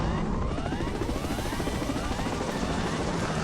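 A helicopter flies over a jungle, its rotor a steady loud, dense chopping roar with a whining engine tone that holds constant throughout, close and alone.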